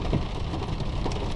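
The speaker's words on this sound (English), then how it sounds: "Now it's raining." Rain and hail pour down during a summer hailstorm in Helper, Utah, a dense steady hiss of drops and pellets hitting the ground, close and continuous with no voices.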